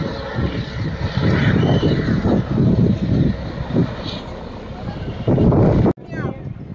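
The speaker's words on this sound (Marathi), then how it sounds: "कोणतरी आला हेलिकॉप्टरने" A helicopter flies over the crowded Anganewadi temple fair in 2024, a loud, steady rushing drone that fills the whole scene, with voices mixed into the noise and a brief sharp break near the end.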